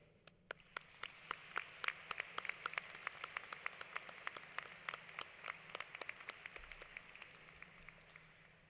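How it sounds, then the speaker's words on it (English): Graduates at the IMSA Class of 2018 commencement applaud their friends and family, a thin crowd of distinct individual claps rising to a steady patter in a large hall, fairly distant. "So if we could please take a moment to applaud for our friends and family"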